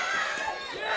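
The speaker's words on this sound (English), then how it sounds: "The crowd really starting to wake up now." Crowd noise fills the room at a K1 kickboxing title fight, steady loud cheering and shouting with mixed voices throughout.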